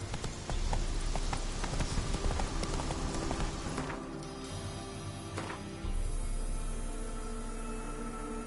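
The horse Roach gallops in The Witcher 3, a steady, rapid clip-clop of hooves carrying on for the whole stretch, with the background ambience shifting partway through.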